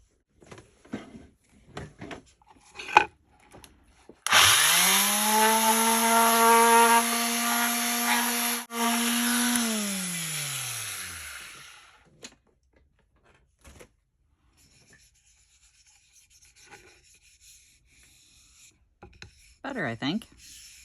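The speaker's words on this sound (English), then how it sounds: "now I have to sand all this off" A small wooden cutting board being sanded, probably with a power sander. A steady whine runs for about six seconds, then falls away, with faint handling noises around it.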